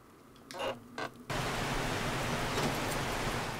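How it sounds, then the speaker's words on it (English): Rain sets in within the survival game 7 Days To Die, a steady broadband hiss that starts abruptly after a few faint earlier sounds and holds evenly to the end with no talking. "Oh, and it's raining."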